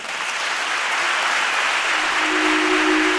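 Steady applause fills a hall at a school education awards ceremony, a dense even wash of clapping throughout, with a faint sustained tone entering near the end.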